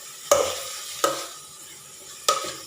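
Pork stir-fried in a pan: three sharp spatula strikes against the pan, spaced irregularly, over a faint low sizzle, fairly close and with no voices.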